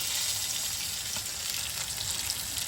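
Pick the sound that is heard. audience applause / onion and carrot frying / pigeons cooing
onion and carrot frying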